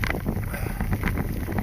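Wind rushes over a microphone while someone rides a bicycle with a tailwind, a steady, loud buffeting roar with low rumble and no talk.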